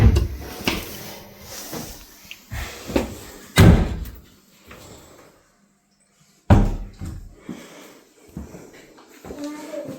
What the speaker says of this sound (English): Big wardrobe space and some doors in there.